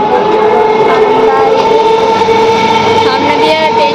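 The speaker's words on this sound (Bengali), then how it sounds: "সামনে দিয়ে ট্রেন যাচ্ছে" A train rumbles past at Bidhannagar railway station with a loud, continuous mechanical roar and some tonal squeal, and background voices mix in.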